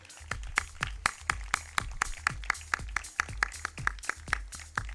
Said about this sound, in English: Huge round of applause for Dr. Ghulam Ghosh.